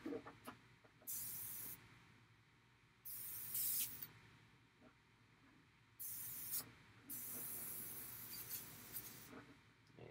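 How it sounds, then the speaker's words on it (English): An airbrush sprays a thin purple paint wash mixed with flow improver while weathering a model drone, sounding as bursts of sharp airy hiss that start and stop in short, uneven blasts. "And my airbrush is clogged."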